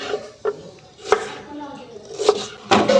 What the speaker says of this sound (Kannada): ಈಗ ಈರುಳ್ಳಿ ಕಟ್ ಮಾಡಿಕೊಳ್ಳುವ.